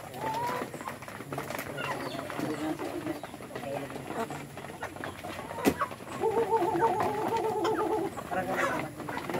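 Free-range native chickens cluck and murmur at a hillside farm, a steady mix of soft calls with a louder burst of repeated clucking near the end, while people talk throughout.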